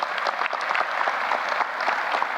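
An audience at the investiture ceremony of Brian O. Hemphill, Ph.D., claps steadily, a full and fairly close wash of many hands throughout the short stretch.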